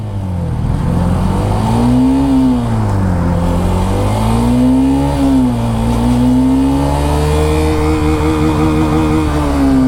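A Hero Xtreme 125 motorcycle on its middle stand revs steadily with a loud, close exhaust note, the pitch climbing, dropping and climbing again through the gears.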